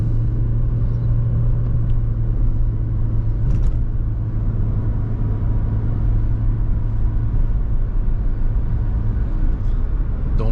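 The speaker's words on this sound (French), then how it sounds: "J'accélère pour dégager l'intersection." A car pulling away through an intersection on a driving-test route near Billom, a steady low engine rumble heard from inside the cabin, constant and moderately loud with no talk.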